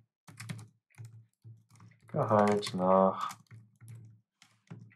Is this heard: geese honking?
no